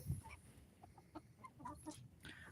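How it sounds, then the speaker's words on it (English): Farm chickens clucking softly with scattered short calls, a few hens pecking near a rooster, faint and close with light background rustle, no speech. "But these are our chickens."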